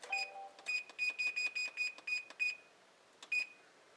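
An oven timer in a home kitchen beeps in a quick series of short, bright electronic chirps. A brief pause follows, then a single final beep. The sound is close and clear over faint room noise.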